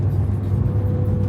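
A slammed show car rumbles steadily nearby as it drives up at a car meet, a low continuous engine drone with no voices.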